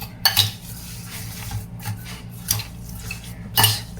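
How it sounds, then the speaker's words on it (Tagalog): Marinated meat is mixed with sugar in a bowl, making soft wet squelching and a few sharp utensil clinks against the bowl, steady and close, with no talking. "Yan, mix lang natin siya."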